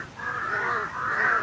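Several crows caw loudly and continuously close by, their harsh calls overlapping into a steady clamor with no pauses.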